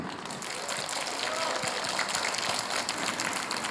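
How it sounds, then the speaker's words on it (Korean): Villagers at an outdoor protest rally against a waste-facility plan clap in a steady, moderately distant wash of applause, with a voice over a loudspeaker heard alongside. "먼저 우리 마을 주민들이 따뜻한 박수 한번 보내주십시오."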